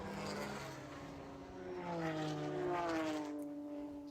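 A Porsche race car accelerates hard at Laguna Seca during a Porsche club race. The engine note climbs steadily and pulls strong for several seconds, loud and continuous, with no voices.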